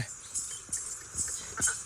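A mare's hooves clip-clopping on the ground, four or five soft distinct thuds at an uneven walking pace, fairly faint and set against a light background hiss.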